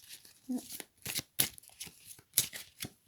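A deck of tarot cards being cut and handled, soft papery riffles and slaps in short bursts, up close, with a voice speaking between them.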